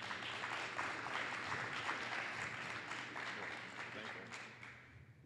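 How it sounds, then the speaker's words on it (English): Applause from a press conference audience welcoming a speaker, a moderate crowd of clapping hands that is fairly distant and quiet, fading gradually toward the end. "Let's give him a round of applause."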